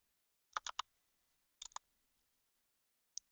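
Several quick clicks of keys being pressed on a computer keyboard as a page number is entered, a short burst, a pair of taps, then one lone tap, fairly quiet and close with no speech.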